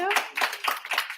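A meetup audience claps briefly, a short burst of bunched applause lasting about a second, near and fairly loud.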